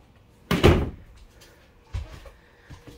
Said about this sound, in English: Rear entry door.